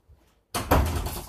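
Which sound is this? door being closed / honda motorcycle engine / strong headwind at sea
door being closed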